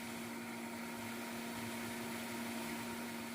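A blender purees green salsa with water, salt and chicken bouillon, giving a steady, continuous high-speed whir with a strong motor hum that runs alone, without any break.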